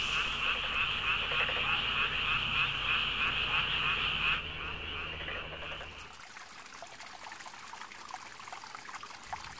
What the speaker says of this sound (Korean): 수컷은 울음보 터져라 줄기차게 울어댄다